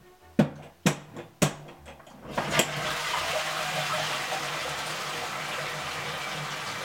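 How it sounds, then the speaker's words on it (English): A toilet flushes after a few sharp clunks of the handle, then a steady loud rush of water that keeps running and refilling the bowl. "Holding for the toilet to stop flushing."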